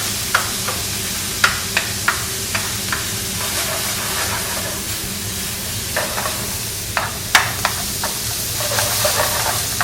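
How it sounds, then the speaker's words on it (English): Crispy ingredients for lasagna sizzle steadily in a pan while a utensil scrapes and taps through them in scattered, sharp strokes; the frying hiss stays constant underneath and no one speaks. "Nice, crispy reaction. Now I can stir."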